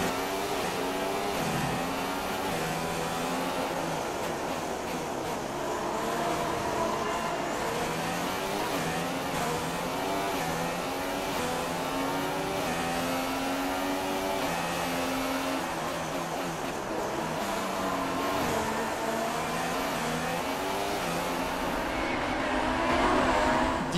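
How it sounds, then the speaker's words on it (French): McLaren Formula 1 car engine in the racing game F1 2016, a continuous loud droning whine with shifting revs held steady throughout, no talk over it. "écoutez le moteur de la McLaren"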